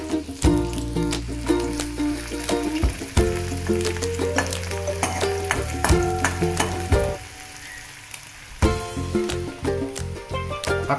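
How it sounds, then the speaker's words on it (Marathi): Half an onion, finely chopped, frying in hot oil for Malvani curry, giving a steady loud sizzle and crackle with clinks and scrapes of stirring throughout, close up and with no voices. "आता इथे तेल तापत ठेवलेलं आहे, आणि या तेलावरती हा अर्धा कांदा बारीक चिरलेला"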